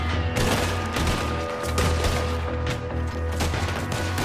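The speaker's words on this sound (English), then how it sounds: "Shooting from everywhere." Dense, continuous gunfire from many directions in Red Dead Redemption 2, overlapping shots and bursts filling the whole stretch at high loudness with no pauses.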